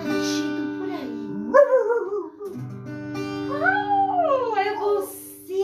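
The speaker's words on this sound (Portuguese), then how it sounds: "eu acho que eu tô ouvindo um latido por aí" A dog vocalizes with rising and falling whimpering howls and yips in a live broadcast setting, fairly close and clear, with steady background hum and tones underneath and no speech over it.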